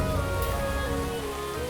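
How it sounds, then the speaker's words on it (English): Steady rain in the platform video game The King's Bird, a constant even patter with a faint tonal game music bed underneath, no speech. "Does that rain push me down?"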